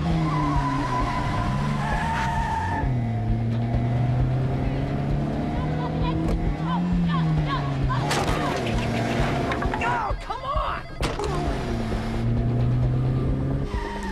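A Nissan NSX in the video game Quantum Break roars with a shifting engine note as its tires skid and squeal, loud and continuous throughout with no clear speech.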